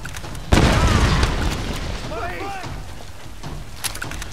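A grenade launcher round explodes in the Tomb Raider video game with a loud, sudden boom that rolls off into a crackling, splintering decay, followed by softer game sounds.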